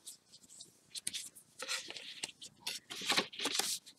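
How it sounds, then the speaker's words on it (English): Paper card tabs being folded and creased along score lines, heard as soft, close, intermittent rustles and swishes of the stock in quick irregular bursts. "Fold right along all the score lines that you just made, folding these little tabs in."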